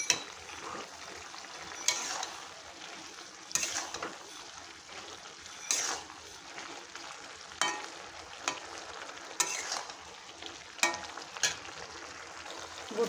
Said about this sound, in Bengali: ওপর থেকে আমি ছোলাগুলো দিয়ে দিলাম, দিয়ে খুব ভালো করে মশলাটা দিয়ে আমি নেড়ে নেব।